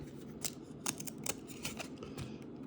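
Old baseball trading cards from a holiday stocking are handled and flipped, giving a string of quick, close paper snaps and rustles, some stuck together.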